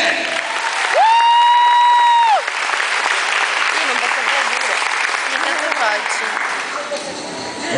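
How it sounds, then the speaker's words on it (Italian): Audience applause for a performer and entertainer at a live show, a dense wash of clapping with some cheering that holds steady for several seconds, with a sustained musical tone sounding near the start. "Un grande applauso per Daniele!"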